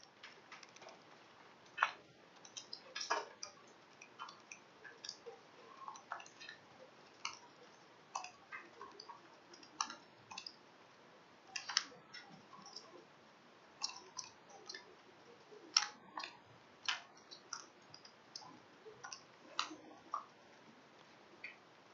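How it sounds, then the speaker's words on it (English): Computer keyboard being typed on, irregular light clicks and taps spread across the whole stretch, close and fairly quiet, with no talking. "I'm going to type in my original function."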